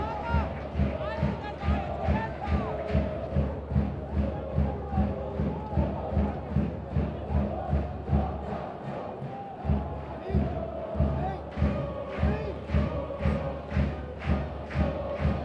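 Lively crowd of about 1,300 spectators at a football match at Valby Idrætspark, a steady babble with rhythmic thumping and chanting throughout, under a commentator's voice.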